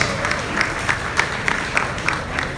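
A crowd at a royal graduation ceremony claps for young graduates in sustained applause, with distinct rhythmic claps standing out over a crowd murmur.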